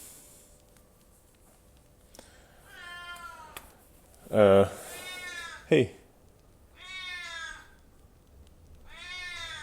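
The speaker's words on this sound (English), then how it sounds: "Oh my gosh, that cat." A cat meows several times at close range: two loud, sharp meows in the middle with quieter mewing before and after, and a person speaks briefly.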